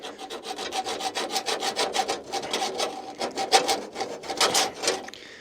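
A brake line is cut with a hand tool, producing close, rhythmic rasping strokes in a steady sawing pattern that grow louder and more uneven toward the end, then stop.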